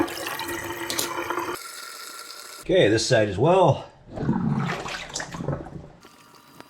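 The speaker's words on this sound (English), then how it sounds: "They're draining really well." Water draining from a filled kitchen sink after the plug is pulled, a steady rushing gurgle heard close up, with a person speaking briefly partway through.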